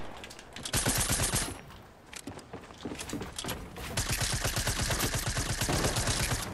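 An SMG fires in a Fortnite match, sounding as rapid, dense bursts of automatic gunfire that rattle almost without pause, loud and close, with a brief lull before a long sustained stream of shots.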